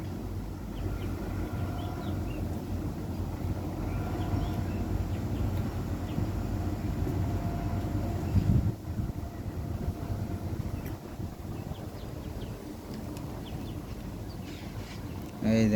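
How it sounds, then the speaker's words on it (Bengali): A long train with two engines, one at the front and one at the rear, crosses a bridge, giving a steady, loud low rumble that holds for the whole stretch. "কত বড় ট্রেন দেখছেন, ওই কোনো ডাবল ইঞ্জিন থাকে।"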